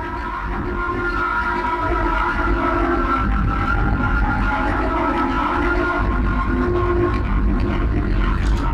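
Mountain footstep and wind field recording heavily processed with effects into a steady droning, rumbling wash with sustained tonal hums, dense and continuous with no clear individual steps.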